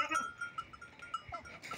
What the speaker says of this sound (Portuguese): os bodes já estão na influência novamente nessa época